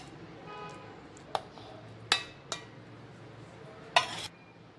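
Sliced mango goes into a jar for a chilled summer sharbat: a few sharp, separate clinks and taps of fruit and utensil against the container over a quiet kitchen background.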